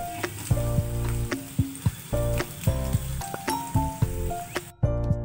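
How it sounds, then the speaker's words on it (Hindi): Ginger, garlic and chili paste frying in a pan for gobi manchurian, a busy close sizzle with repeated clinks and scrapes of a spoon against the pan, steady and loud throughout. "अब अदरक लहसुन और मिर्च के जो पेस्ट है उसे हम थोड़ा भून लेते हैं"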